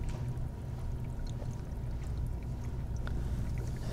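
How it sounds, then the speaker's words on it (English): Water pours and splashes into a planted fish tank as it fills, a quiet, continuous trickling wash with faint small splashes throughout, no talking. "I have water coming in and I want it splashing in."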